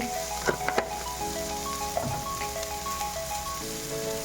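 Cumin seeds sizzling in hot oil in a pan for a bitter gourd chachchari, a soft continuous crackling hiss with a few quick pops early on and tonal kitchen background hum beneath.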